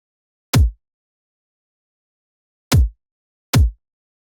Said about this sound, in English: So next is the main kick drum I used in this track.